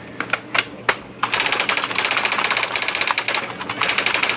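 An IBM Wheelwriter electronic typewriter printing after a print hammer repair: a few separate loud clacks, then a fast, continuous run of sharp, closely spaced strikes with tiny pauses between bursts.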